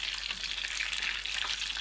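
Rohu fish fries in a pan as it is moved about, producing a continuous crackling, bubbling sizzle heard up close with no voices.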